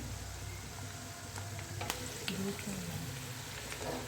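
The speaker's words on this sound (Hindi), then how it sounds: "तो यहाँ पर काफ़ी सारे चने मैंने फ्राई होने के लिए डाल दिए और इसको मीडियम फ्लेम पर ही हमने फ्राई करना है" Chickpeas (chana) fry in oil over a medium flame, giving a soft, continuous sizzle with occasional light stirring clicks, quiet and steady throughout.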